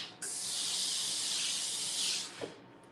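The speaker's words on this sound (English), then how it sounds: "that Laura Star powerful steam really sets that in place" A Laura Star steam iron lets out a strong, steady hiss of steam over a fused fabric seam, loud and close for about two seconds before tapering off.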